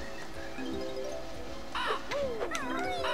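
A cartoonish bird squawks a few times in the Banjo-Kazooie video game, harsh gliding cries over a steady background of game music.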